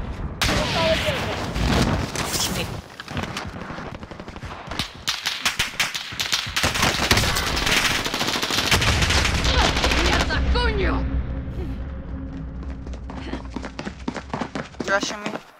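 Video game gunfire in a shooter, rapid bursts of automatic shots and single cracks across the whole stretch, loud and close, with a spoken voice underneath.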